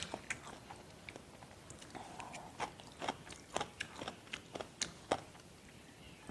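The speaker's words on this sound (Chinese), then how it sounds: "这个笋是特别的嫩跟脆，这个牛脸咬下去是糯糯的" Close, steady chewing of tender, crunchy bamboo shoots and soft beef cheek in a home-cooked dish, with repeated crisp crunches and bites in an uneven rhythm over quiet room noise.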